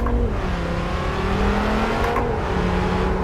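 Modded car engine in Euro Truck Simulator 2 revs loud and close, a sustained droning whine that rises slightly, with no talking.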